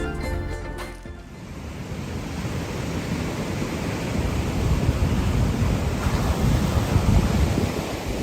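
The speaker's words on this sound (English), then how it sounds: "Here is Masew Beach" Sea waves at Masew Beach roll in as a continuous broad wash of surf that swells gradually louder, mixed with wind buffeting the microphone, with no voices.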